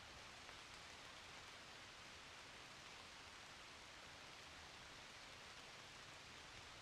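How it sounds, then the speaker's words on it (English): Steady outdoor rain falls in an even, continuous wash of noise, faint and distant, with no talking over it. "I really hope that you can hear the rain."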